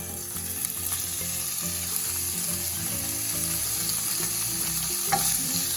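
Smoked sausage frying in hot canola oil at medium heat, a dense, loud, continuous sizzle with light stirring and crackle underneath.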